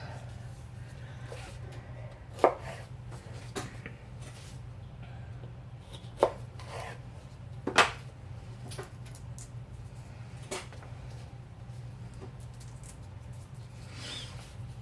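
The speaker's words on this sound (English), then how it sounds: "I can't really chop much smaller than that" Knife knocks on a cutting board while vegetables are chopped into tiny pieces for canning salsa: a handful of scattered, fairly faint taps spaced seconds apart over a steady low hum, with no talk.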